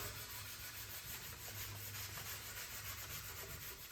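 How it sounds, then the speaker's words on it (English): A green abrasive pad rubs steadily over a painted finish during an aged-steel paint process, making a continuous faint scratchy scrubbing with a soft rhythmic back-and-forth pulse and no voices. "now I'll just start out with the green pad because it's more abrasive"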